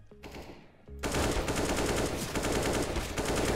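Automatic gunfire in CS:GO: a brief shot and a short pause, then a loud, continuous rapid-fire spray lasting several seconds.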